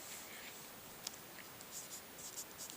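Chalk or marker writing an equation on a classroom board during a Class 10 height-and-distance maths lesson, faint scratchy strokes in short bursts with a brief sharper tap, fairly quiet and without talk.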